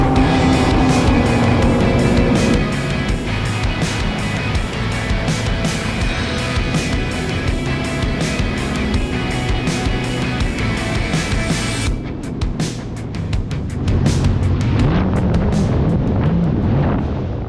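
Yamaha GP1800R and supercharged FX WaveRunners drag race across open water, a loud sustained engine roar with wind buffeting the microphone throughout, briefly dipping before surging again near the end.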